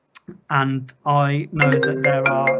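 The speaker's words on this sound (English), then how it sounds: "that's my phone ringing" A mobile phone rings during a virtual public meeting, its brief tone sounding under a man's steady, close speech.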